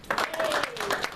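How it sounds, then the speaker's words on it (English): Audience applause at a network marketing company presentation in South Africa, a brief burst of crowd clapping with a faint tone running underneath. "So give a round of applause for that."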